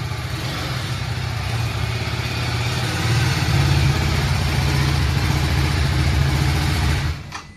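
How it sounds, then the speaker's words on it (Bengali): A BMW 310R motorcycle engine runs steadily at a low, even idle close by, a constant rumble that cuts off abruptly near the end. "BMW 310R জাস্ট এইমাত্র আসলো গাড়িটা এখানে।"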